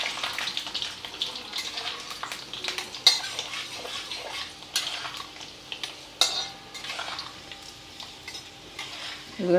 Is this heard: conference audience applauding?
no